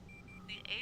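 Two short high electronic beeps sound in a flight simulator cockpit, followed by a brighter warbling tone, with a person's voice faintly underneath.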